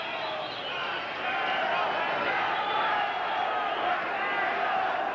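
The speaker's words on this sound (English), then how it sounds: "Crowd roaring as the two come out of their corner." Boxing arena crowd at a WBC featherweight title fight roaring loudly and continuously as the fighters leave their corners for round 11, a dense sustained wall of cheering that swells after the first half second.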